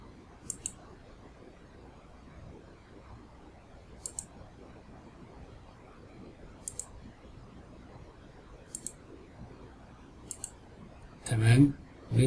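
A computer mouse clicks in quick double clicks, spaced a couple of seconds apart, crisp and close over a faint room hiss, followed at the end by a brief louder rustle.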